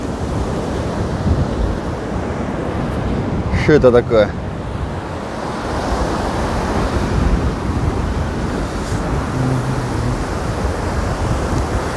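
Stormy sea off Anapa roars in steady broadband surf with gusting wind buffeting the microphone; a person briefly speaks near the start, then continuous crashing waves and wind fill the rest.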